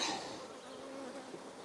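A steady, close buzzing of many honeybees from an open hive with comb, continuous and even throughout, with no voices.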